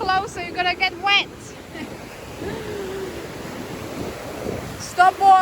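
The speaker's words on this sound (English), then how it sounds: "There's big waves." Big ocean waves wash onto a beach in a steady, broad roar with wind, while children's voices talk briefly at the start and end.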